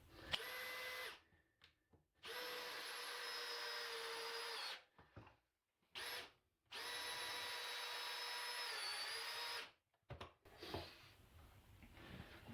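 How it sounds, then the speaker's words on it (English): A power drill drives screws into wood in several sustained whirring bursts, each a few seconds long, separated by short pauses and faint clicks, close and loud. "I can actually get the drill and bit in there and screw it on without any problems"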